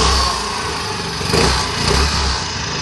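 Honda Activa 3G scooter engine running just after a kick start, steady idle with small revving swells, loud and close, with no talking.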